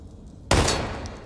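Single sharp gunshot in the video game Daymare 1998, one loud close blast that cuts in abruptly and decays into a ringing tail, with no talking.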